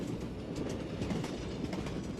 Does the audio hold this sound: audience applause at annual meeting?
no